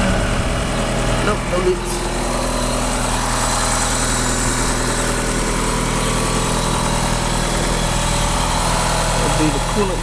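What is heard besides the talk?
Bold Eagle Talon AWD engine idling at first start-up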